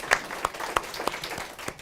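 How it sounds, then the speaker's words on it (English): A brief patter of applause from a small group, claps scattered and uneven, fading quickly. "So please, a hand of applause."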